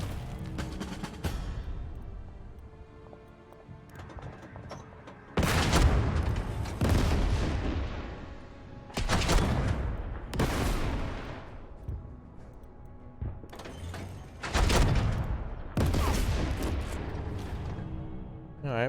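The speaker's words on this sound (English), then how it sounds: "Oh no, mortars." Mortar blasts and gunfire in a WWII strategy game set during the 1940 German invasion of France, with several heavy booming explosions spaced a few seconds apart over a low rumbling battle backdrop.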